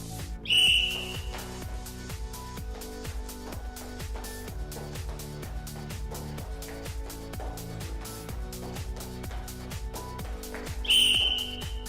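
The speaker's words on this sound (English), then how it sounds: "before the whistle went" Two sharp whistle blasts sound during a roller derby fitness test, one near the start and one near the end, over a steady, rhythmic musical backing.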